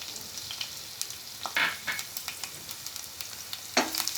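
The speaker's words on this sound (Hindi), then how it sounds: "ये गरम तेल में मैं ये बारीक कटी हुई लहसुन डाल दूंगी। और इसके साथ ही मैं ये हरी मिर्च भी डाल दूंगी।" Finely chopped garlic and green chillies sizzle in hot oil in a kadhai, a steady crackling hiss with sharp pops and a few stirring scrapes, close up.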